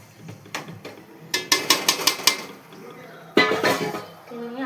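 Spoon stirring and scraping biryani ingredients in a metal pot for Hyderabad dum biryani, a quick run of clinking strokes followed by another clatter, faint and close, with soft background noise.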